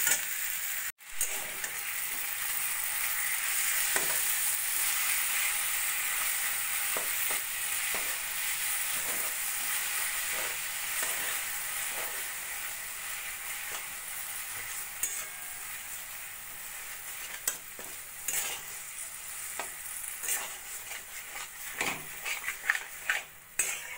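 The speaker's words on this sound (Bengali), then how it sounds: "এবার আস্তে আস্তে নাড়া দিয়ে দিয়ে মিশিয়ে নেব।" Fried amla mixed with sugarcane jaggery is stirred in a pan over low heat, giving a steady close sizzle with repeated spoon scrapes and clinks against the pan, increasing toward the end.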